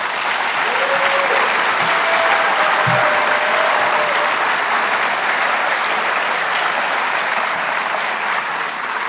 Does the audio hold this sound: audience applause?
yes